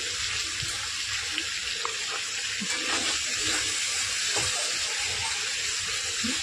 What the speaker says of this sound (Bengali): হালকা করে, ভালো করে নেড়ে ছেড়ে হালকা করে ভেজে নিচ্ছি